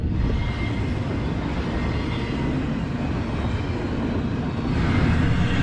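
A freight train passes in the early morning, a loud, steady rumble and rolling clatter that holds throughout and grows slightly louder near the end.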